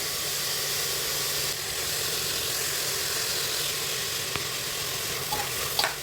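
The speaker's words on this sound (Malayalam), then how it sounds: "സവാള ഇട്ടൊന്ന് വഴറ്റാം." Onions sautéing in hot oil in a pan for egg biryani give a steady, even sizzle throughout, with a few faint utensil scrapes and taps near the end. No one speaks.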